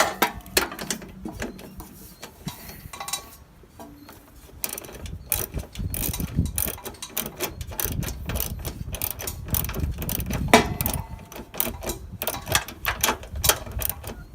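A ratchet snugs down a headlight assembly bolt on a 1994–2001 Dodge Ram pickup, giving rapid bursts of close, sharp clicking in uneven runs with short pauses between strokes.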